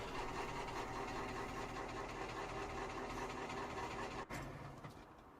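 A tractor engine in the Farming Simulator video game runs in a steady, continuous drone throughout, with a brief dip near the end and no talk.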